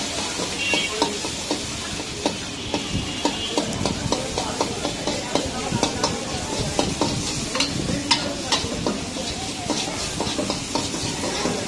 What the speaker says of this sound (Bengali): রসুনটা একটু ভেজে নেই।